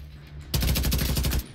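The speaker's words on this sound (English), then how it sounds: "He's shooting." A burst of rapid automatic gunfire in Division 2, loud and close, with about a dozen quick evenly spaced shots ending abruptly after a quiet lead-in.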